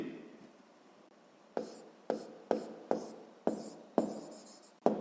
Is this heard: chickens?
no